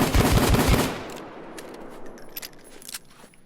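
A Taurus Judge shotgun revolver fires in the video game Payday 2: a quick loud burst of blasts in the first second, then a fading tail with scattered light metallic clicks.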